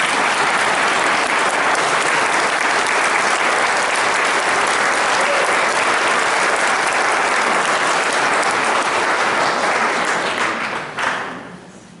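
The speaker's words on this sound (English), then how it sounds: "because I think they deserve a round of applause." A large audience claps loudly and continuously for about eleven seconds at a Dark Sky Discovery Center announcement, then the applause tapers off quickly.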